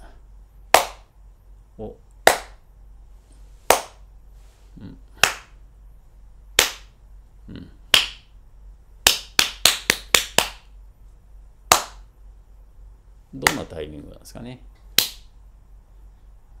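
Sharp hand claps aimed at a micro:bit V2 microphone to switch on its light, sounding as single claps spaced a second or two apart, then a quick burst of rapid claps, with brief talk in between.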